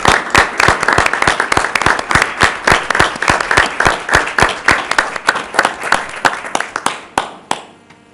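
An audience at a school board meeting applauds with a dense burst of clapping that holds steady and then fades away over the last second.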